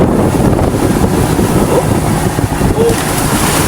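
Strong wind buffets a fishing boat on the open Pacific, with big waves churning and thumping against the hull in a steady, loud, continuous roar.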